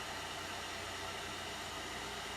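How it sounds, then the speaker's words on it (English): A constant broadband blowing roar from a hair dryer working creases out of an American flag decal, running steadily throughout, with no speech over it. "So while it's bunching up, I can take the hair dryer"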